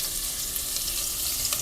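Chopped onion hitting a little hot oil in a pot for macaroni soup, a loud steady hiss that stays close and even throughout with no talk.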